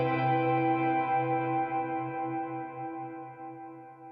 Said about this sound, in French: S'il est long, le son généré par la reverb durera longtemps